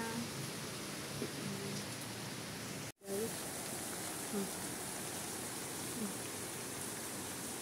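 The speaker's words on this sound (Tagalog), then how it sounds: "Hindi naman naawa itong ulan na to." Steady rain hisses in a continuous wash of noise, briefly cutting out for a moment before resuming, with faint sounds scattered underneath.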